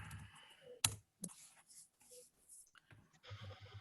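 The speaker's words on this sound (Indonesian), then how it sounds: "Ketika saya ngetik di sini KPR Rumah Syariah" Someone types on a computer keyboard while entering a website address for a sharia home mortgage listing: a few quiet, scattered key clicks with one sharper tap, close and faint, and no talk.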